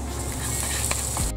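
Onion and garlic frying in olive oil and butter in a skillet, a dense, close, continuous sizzle with a brief stir, cut off abruptly at the end.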